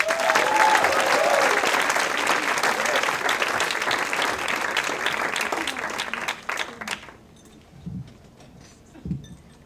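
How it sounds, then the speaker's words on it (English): Comedy club audience at the Punch Line in San Francisco applauding a stand-up comic, loud sustained clapping that thins out and fades after about seven seconds, leaving a few scattered sounds. "Big round of applause for Mary Van Noe."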